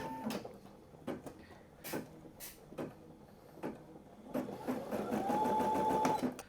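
Brother SE700 sewing and embroidery machine starting up, with a few quiet clicks and knocks before the motor whirs into a steady, fairly loud stitching hum for the last two seconds, no talk.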